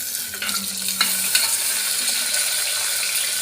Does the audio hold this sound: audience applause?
no